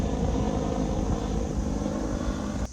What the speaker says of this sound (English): as were the helicopters above